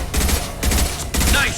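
Loud video game gunshots from Mass Effect 2 boom in three heavy blasts spaced about half a second apart, close up, with a faint tonal game sound near the end.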